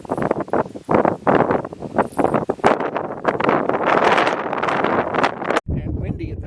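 Strong wind roars and buffets the microphone in gusts at the summit of Signal Peak in southwest Arizona, with a voice talking underneath, then the rush drops away abruptly near the end.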